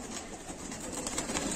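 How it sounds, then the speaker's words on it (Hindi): Pigeons cooing steadily at a pigeon-keeping setup in Moradabad, the birds restless before release, a continuous soft murmur of coos with no talk. "ये देखिए आवाज देखिए कबूतरों की, खुलने के लिए बिल्कुल बेताब हो रहे हैं"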